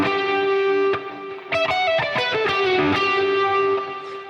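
A heavily distorted electric guitar plays an 80s-style lick, holding a sustained note before a fast descending run of bends and pull-offs, loud and close with no talking.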